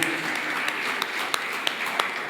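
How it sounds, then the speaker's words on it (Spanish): Members of a Spanish-speaking church audience give applause to the Lord during a Sunday service, a moderate, steady patter of many hands with a few sharper individual claps standing out, heard alone. "¿Qué tal si levantamos un aplauso al Señor como siempre les pido?"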